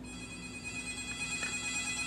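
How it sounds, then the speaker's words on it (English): A mobile phone rings at steady volume over a constant hum and hiss, with no talk, in a workshop setting during a sun catcher craft made from recycled bottles. "my phone's ringing."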